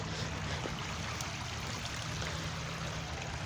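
A creek flows steadily in an outdoor Alabama woodland spot, a continuous close burbling rush of running water with no speech.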